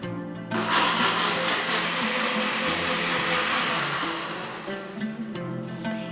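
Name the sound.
mixer grinder grinding spices and green chillies into paste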